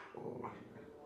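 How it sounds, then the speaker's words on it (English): A dog gives a short, muffled growling bark indoors at low level, a single brief burst lasting about a second with no talk. "No barking."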